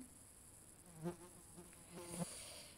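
A housefly buzzing close by in a quiet indoor room, with two brief louder passes about a second apart, then fading.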